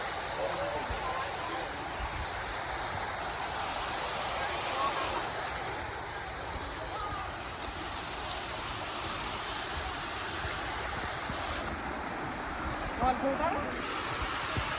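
Water rushes steadily over a dam spillway in a waterfall, a broad continuous roar that holds level throughout, with people talking faintly in the background.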